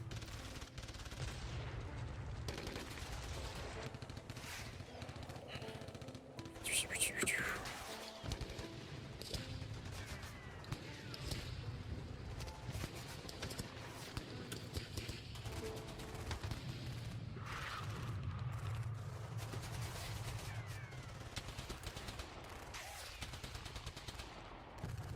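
Machine-gun fire plays as a sound effect during a tabletop role-playing game session: dense, sustained rattling bursts and booming shots fill the whole stretch, loud and continuous, with no clear talking over them.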